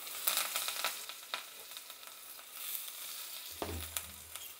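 Mustard seeds, asafoetida, onion and curry leaves sizzle steadily in hot oil for tempering, a soft continuous crackle and hiss close by, with a brief low thump near the end.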